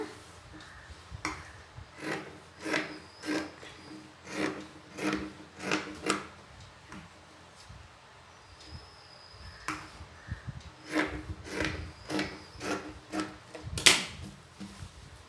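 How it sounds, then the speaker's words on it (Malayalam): Scissors cut crosswise through blouse cloth to shape a back neck, giving a steady run of short rasping snips in an uneven rhythm, close by, with no talking. "നമ്മൾ നെക്കിനൊക്കെ കട്ട് ചെയ്യുന്ന മാതിരി ക്രോസിലൊന്ന് കട്ട് ചെയ്തെടുക്കാം"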